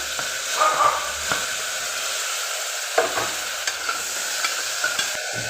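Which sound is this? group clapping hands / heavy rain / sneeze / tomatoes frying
tomatoes frying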